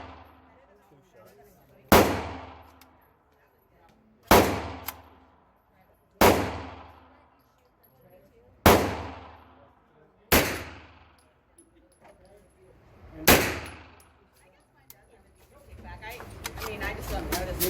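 Six sharp gunshots from NAK9 Draco and Hi-Point firearms ring out at an outdoor range, evenly spaced about two seconds apart, each loud crack decaying quickly, followed by a rising rustle of handling noise.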